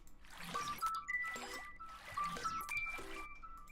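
Water trickling and splashing in short bursts, blended into a music track so that each burst fades into a snare hit, with tonal synth notes woven through the repeating pattern.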